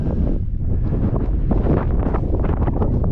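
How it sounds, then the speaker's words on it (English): Desert wind at the ancient Egyptian pyramids of Unas and Teti, buffeting the microphone with a loud, constant rumbling roar throughout. "The desert wind blowing."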